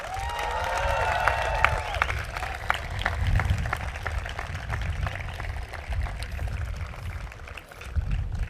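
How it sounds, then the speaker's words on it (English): Audience applause for faculty at a university convocation ceremony, a steady wash of clapping from a large crowd that continues for several seconds, with a few voices briefly audible near the start. "giving them a big round of applause"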